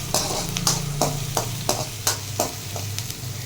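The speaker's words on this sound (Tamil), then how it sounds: "பெரிய வெங்காயத்தை போட்டு நல்லா கோல்டன் ப்ரௌன் ஆகிற மாதிரி வதக்கணும்" Sliced big onions sautéing in plenty of oil in a pan for a green peas gravy, a steady close sizzle broken by regular stirring scrapes about every third of a second, with no talking.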